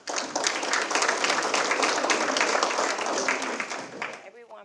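Audience applause at a Tiger Bay education forum as a speaker from middle schools, high schools and Manatee Technical College comes forward, a dense, steady clapping that fills the room for about four seconds, then fades out.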